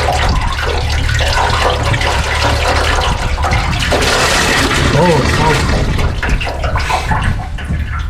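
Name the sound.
water flowing through flushed coolant hose, BMW 328i E46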